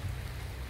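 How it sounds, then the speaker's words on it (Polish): Rain falls steadily on a palm forest in the Seychelles, making a soft, even, continuous patter with a low rumble beneath and no voices. "teraz pada deszcz cały czas, trochę się zachmurzyło"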